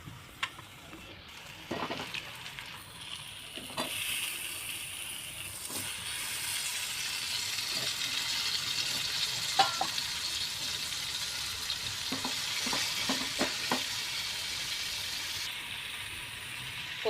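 Vegetables go into fried masala paste for a dry prawn curry and are stirred, giving a steady broad sizzle with repeated clinks and scrapes of the spoon against the pan, close and fairly loud throughout with no talking.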